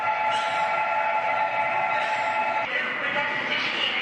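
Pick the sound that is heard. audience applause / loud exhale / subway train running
subway train running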